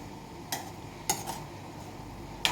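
A spoon scraping and knocking in a pan of beetroot curry with yogurt, giving a few sharp, separate clinks and scrapes over a quiet background.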